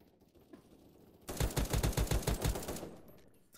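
A rapid burst of automatic gunfire from the first-person shooter game Krunker rattles out loud and close, about a dozen evenly spaced shots fired in one sustained volley before fading into quiet game ambience.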